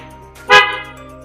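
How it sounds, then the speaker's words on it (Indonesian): A Hella snail-type car horn gives one short, loud blast of about a tenth of a second. The tone is bright and harmonic, and it rises sharply out of a quiet background. "ini produk dari Hella, klakson keong"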